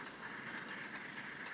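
An LNER Gresley P2 steam locomotive runs in the Trainz railroad simulator game, giving a steady, faint rolling rumble with a soft rhythmic clatter of wheels on track.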